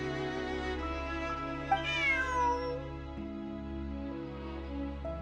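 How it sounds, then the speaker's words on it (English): A video game cat gives a single short meow over a steady, quiet background music bed, with no speech. "Bonnie is Pierre's cat"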